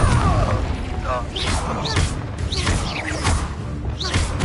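Confringo explosion spells blast during Hogwarts Legacy combat, a run of heavy booms and crashes mixed with busy magical effects and other battle sounds.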